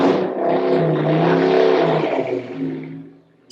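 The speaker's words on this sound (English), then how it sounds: "there's a motorcycle revving up outside." A motorcycle revs outside, its engine whine rising and holding loudly for a couple of seconds before fading away.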